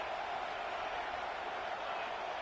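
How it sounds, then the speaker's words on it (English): A college football stadium crowd at Boise State versus USC makes a steady, dense roar with no breaks, heard from a distance and filling the background. "This crowd trying to make life miserable for this offense."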